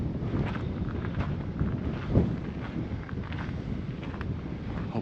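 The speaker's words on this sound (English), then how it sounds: "Hopefully the wind buff on this is doing its job, because it's windy." Wind gusts on the Hughes Mountain nature trail, buffeting the microphone with a continuous low rumble and a soft rustle above it, swelling briefly midway.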